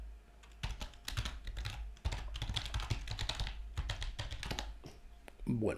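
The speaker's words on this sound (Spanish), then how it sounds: "voy a poner aquí mi contraseña" Password being typed on a computer keyboard, with close, quick bursts of key taps in irregular clusters and a faint voice beneath.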